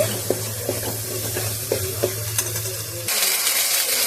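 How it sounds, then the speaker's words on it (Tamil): Cowpeas frying in a pan for a rice dish, with a steady sizzle and a few scattered scraping taps from stirring, ending in a louder, brighter hiss. "சேர்த்துட்டு நல்லா இதை அதிலே கொஞ்சம் ஃப்ரை பண்ணி விட்ருங்க"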